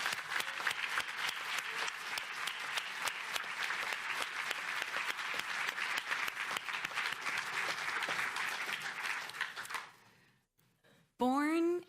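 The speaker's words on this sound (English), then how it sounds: "let's give a huge round of applause to this fierce champion for women" An audience at a hall-of-fame ceremony applauds loudly and steadily for about ten seconds of dense clapping, which then fades out abruptly into near silence before a voice begins speaking.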